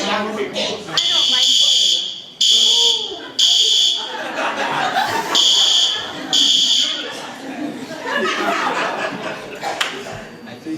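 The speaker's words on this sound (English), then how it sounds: "Okay, I think we all got the alarm down." A fire alarm blares in repeated loud bursts with short gaps, while people talk and chuckle underneath.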